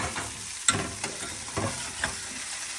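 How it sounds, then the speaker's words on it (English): Broccoli being stirred in a hot pan with lemon, garlic and parmesan, close crackling sizzle broken by a few sharp scrapes and taps of the utensil against the pan. "I'm going to give it one last stir here."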